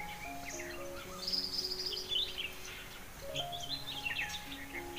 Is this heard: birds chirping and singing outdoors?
yes